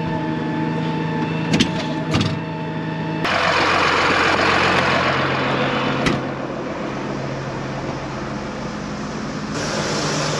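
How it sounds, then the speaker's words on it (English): A tractor engine runs at a steady idle with its PTO driving a liquid manure pump on a farm in sub-zero snowy weather, giving a continuous low mechanical hum with a few clunks and a rise in the whoosh after the start. "What I've been doing is just hopping in the tractor here, turning the PTO on, leaving the pump open."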